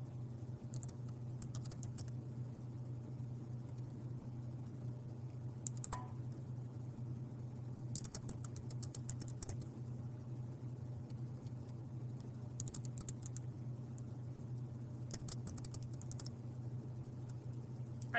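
Computer keyboard keys click in short bursts of typing separated by pauses, close and fairly quiet over a steady low hum, with no voices.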